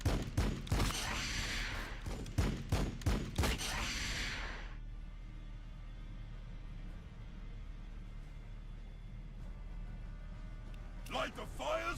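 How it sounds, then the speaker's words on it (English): Video game gunfire rattles off in rapid bursts of loud, sharp shots for the first few seconds, then drops to a low ambient hum, with another short burst at the very end. "Firing on the enemy."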